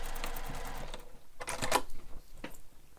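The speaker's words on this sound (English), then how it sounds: "And then you sew right back down the mesh." A domestic sewing machine stitching through mesh fabric for a beach bag, a rapid mechanical whirring burst that starts, pauses and restarts in short runs, close by.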